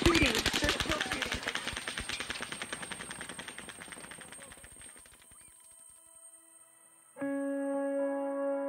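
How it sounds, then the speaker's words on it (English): Rapid gunfire during a mass shooting at an outdoor country music concert, a long fast string of distant pops that slowly grows fainter before a steady tone cuts in near the end. "they're still shooting"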